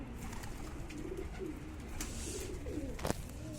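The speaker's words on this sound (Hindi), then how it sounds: "तो ये वो कबूतर है भाई" Soft, low pigeon coos from a madrasi pigeon repeat under a steady background hiss, with a brief sharp rustle or flap near the end; no voices.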